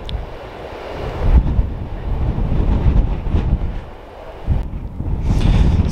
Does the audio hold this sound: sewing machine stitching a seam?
no